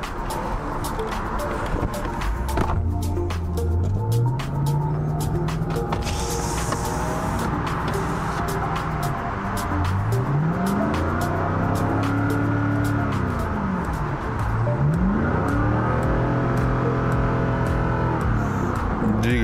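A Lexus LS engine from a 2006–2017 USF4 model with 72,000 km runs on test, idling and then revving up and down in three smooth rising and falling sweeps, loud and close, with occasional clicks alongside.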